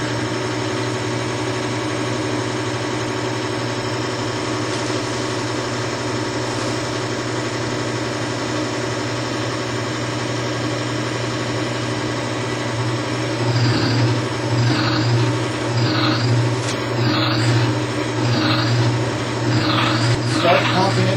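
A lubricity test machine grinds against a bearing race under gradually increasing pressure, giving a loud, steady mechanical drone with a constant low hum. Rhythmic pulsing louder strokes join it toward the end as load is pumped on.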